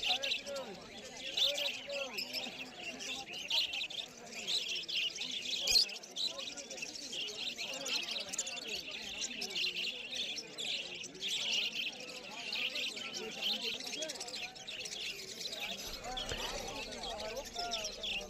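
Small cage birds such as Bengalese finches and budgerigars chirp at an Uluberia pet market, giving a busy, continuous high twittering under a person talking nearby throughout.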